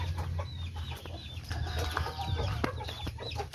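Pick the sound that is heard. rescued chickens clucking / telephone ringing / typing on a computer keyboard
rescued chickens clucking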